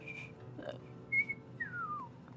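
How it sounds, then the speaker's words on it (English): A person whistles several short tones, including a longer gliding note that slides downward, close and clear over a quiet background. "I had to learn how to whistle."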